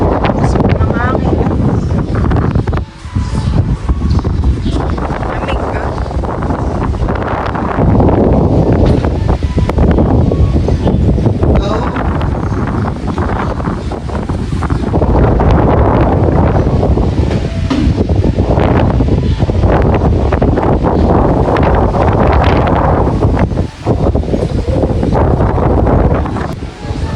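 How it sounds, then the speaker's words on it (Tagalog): Strong gusting wind from typhoon Ramil roars continuously across the microphone with heavy buffeting, loud and close throughout, while a person talks over it at times. "malakas ang hangin po dito sa amin. Gawa po ng bagyong Ramil."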